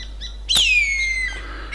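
A single clear bird call rings out in the Australian outback along the Tanami Road, a sharp rising note sliding into a long descending whistle, over a steady low background hum.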